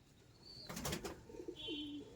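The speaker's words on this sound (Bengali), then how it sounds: "এটা হচ্ছে নর পায়রা" A male Teddy pigeon gives a short, quiet, low coo after a brief burst of rustling or wing movement, all faint against a soft background hiss.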